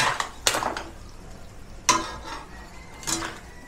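Mussels and shrimp stirred in a pan for garlic butter shrimp, giving three separate bursts of utensil scraping and clinking against the cookware over a faint background hiss, with quiet gaps between the stirs.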